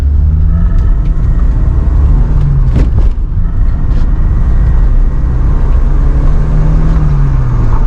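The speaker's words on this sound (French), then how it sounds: "Je vais essayer de faire une petite accel pour vous faire le bruit" A Porsche 944 accelerates on a damp road, its engine a loud, steady low rumble heard from inside the car, with a brief shift in tone partway through and no voices.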